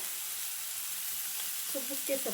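Dill leaves fry in a pan with a constant hiss of oil, soft and even, and a few light clinks of stirring near the end; no one speaks.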